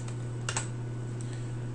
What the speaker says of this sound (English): So let's type in fitness.